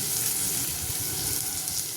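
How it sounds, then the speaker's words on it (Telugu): Tomatoes tipped into a pan of fried onions while cooking tomato rice, giving a steady, close broadband sizzle that holds evenly without break. "ఇప్పుడు నేను టమాటాస్ వేసుకుంటున్నానండి"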